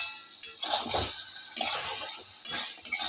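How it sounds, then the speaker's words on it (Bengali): Chicken kosha stir-fried in oil in a pan on the stove, with a utensil scraping and clinking against the metal in irregular bursts over a soft steady sizzle, close and moderately loud. "এইরকম অবস্থায় ভালো করে চিকেনটাকে আমি আরও 3 মিনিট কষিয়ে নেব"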